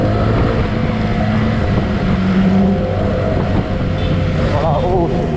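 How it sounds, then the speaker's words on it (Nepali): A Honda CBR 600RR fitted with a TOCE exhaust is ridden on a mountain road. Its engine roars loud and close under heavy wind buffeting, with the pitch rising as the throttle opens near the end. "आवाज चाहिँ यस्तो मिठो आउने टुसे एक्जस्ट छ है।"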